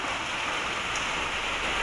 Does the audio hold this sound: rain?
yes